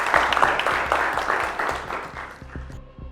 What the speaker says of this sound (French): On va le raccompagner avec des applaudissements,